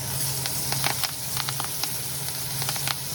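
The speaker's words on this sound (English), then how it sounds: "So this is my tadka." A tadka of onion, garlic and curry leaves sizzles in hot oil, a continuous close hiss with scattered sharp crackles and pops.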